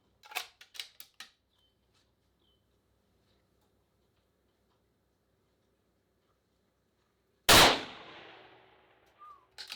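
A single loud rifle shot aimed at a clay pigeon at 1,000 yards cracks sharply, then its report rolls away and decays over a couple of seconds, preceded by a few faint clicks amid near silence.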